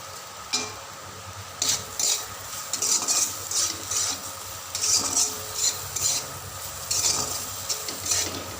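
Potatoes fry in a hot kadai with salt, giving a soft sizzle under a rhythmic run of scraping stirring strokes, each stroke a short clatter of utensil against the pan.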